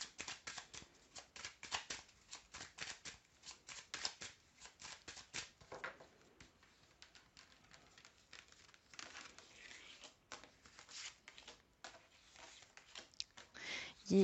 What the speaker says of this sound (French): Je remélange et on va voir tout de suite ce que ça nous donne.